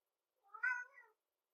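A domestic cat gives a single short meow, faint and slightly distant, in an otherwise silent moment.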